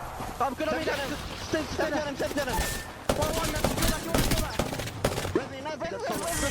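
Apex Legends gunfire during an ALGS match, rapid close bursts and rattling shots layered with game effects, running under steady talk.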